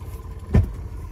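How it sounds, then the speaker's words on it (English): A boat's outboard motor, prepared for bad weather in the Dominican Republic, runs with a low steady rumble and then gives one short, louder rev. "Motor is running. And let's just test it and make sure it revs up."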